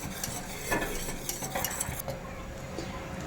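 Kulfi milk mixture being stirred in a pot over a very low flame. A spoon scrapes and taps the metal in a steady rhythm over a soft bubbling simmer, heard close up with no voices.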